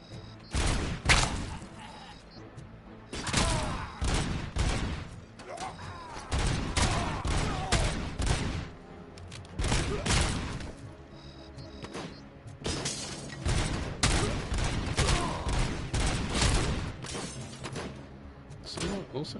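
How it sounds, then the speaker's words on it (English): Gunfire in a PS5 shooter game: repeated bursts of loud shots and impacts come in clusters over a long stretch, with someone talking between and under the firing. "Looks like someone was shooting me from this way."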